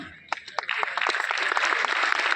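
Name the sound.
audience applause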